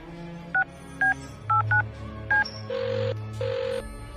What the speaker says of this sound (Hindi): ठीक है दरोगा जी, मैं अभी फोन कर देता हूँ संजना के पिता कमल सिंह को।